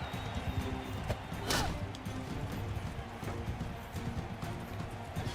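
Galloping horse hooves in Mount and Blade 2: Bannerlord, a rapid thudding clatter amid battle noise, with a sharp impact partway through.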